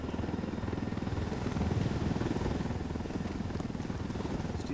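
A supply helicopter in a GTA game chops and whirs continuously at moderate loudness, a steady rotor thrum with no speech over it.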